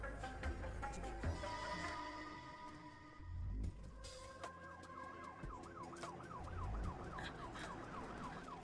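Ambulance siren in a South Indian action film scene: a wailing siren that rises and falls rapidly, fairly close, over a dense background of traffic and street noise with brief thuds.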